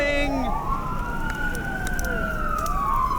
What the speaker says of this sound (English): Sirens off in the distance.